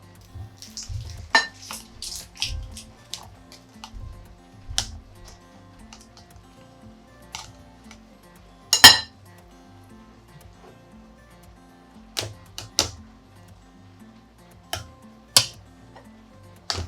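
Cooked ground beef being scooped into glass canning jars, with sparse spoon clinks and taps against glass and scattered soft thuds, close by with quiet gaps between.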